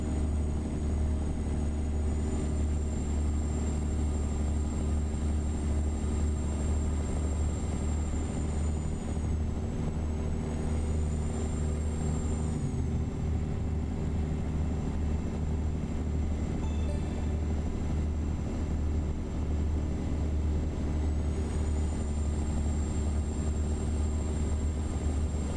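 A CAT 3406B truck engine in American Truck Simulator drones at a steady, low, continuous rumble throughout, with a faint high whine rising and falling at times over it.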